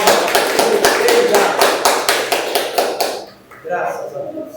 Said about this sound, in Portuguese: Salva as palmas.